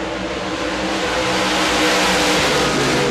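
Modified race cars roaring hard under throttle at Devils Bowl Speedway, a loud, dense, sustained engine howl from several cars at once, close and steady with no talk over it.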